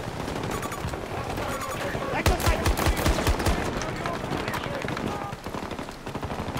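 Dense Battlefield 2042 gunfire rattles continuously, rapid machine-gun bursts mixed with nearby shots and heavier thumps in a chaotic, loud battle soundscape that barely lets up, with a voice talking faintly underneath.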